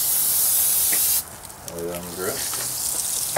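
Cooking spray hissing onto fish fillets, speckled trout on the half shell, before grilling on a barbecue pit: a steady close spray for about a second, then quieter sizzling as someone speaks.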